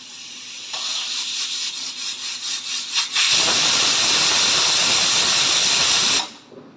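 A pressure cooker of chicken stew hisses as steam escapes, first as a pulsing whistle, then a loud, steady rush of venting steam that cuts off abruptly at the end.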